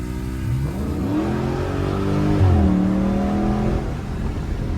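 A Dodge Scat Pack Shaker Edition pulls hard, its engine note climbing through the revs in one sustained acceleration, close and loud, then settling slightly at the end.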